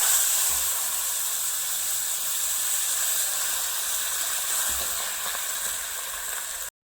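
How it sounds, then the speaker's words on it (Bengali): Meat and bay leaves sizzle in hot oil in a kadai, a steady, close, loud hiss that continues unbroken before cutting off abruptly at the end. "তা তেলটা গরম হয়ে গেছে, তেজপাতা দিয়ে দেবো। আর এই যে মাংসগুলো দিয়ে দেবো।"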